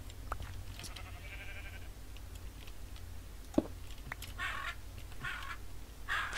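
Sheep bleat in an older version of the video game Minecraft, a few short faint bleats spread apart over low background hum, with soft ticking and a sharp click in between.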